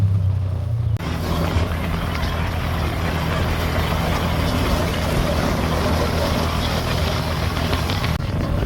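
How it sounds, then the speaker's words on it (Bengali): Two motorbikes setting off on an early-morning ride in Bangladesh, heard as a loud, continuous engine drone mixed with rushing wind noise that holds steady throughout. "আমরা দুইটা বাইকে রওনা দিচ্ছি"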